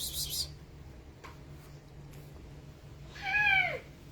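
Cats meow twice, a short call at the very start and a longer, drawn-out meow near the end, fairly close, over a steady low hum with no talking.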